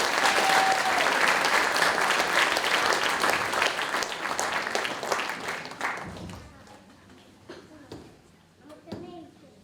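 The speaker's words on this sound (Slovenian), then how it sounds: "En aplavz spodbude za otroško folklorno skupino Dolsko." Warm audience applause for a children's folk dance group at a Slovenian folklore festival, dense clapping that fades out after several seconds into scattered claps and quiet voices.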